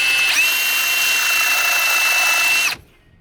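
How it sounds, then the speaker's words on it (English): A power drill whines loudly and steadily against stuck exhaust bolts on an Evinrude outboard motor, running for nearly three seconds before cutting off abruptly into quiet. "It just won't let you drill them out."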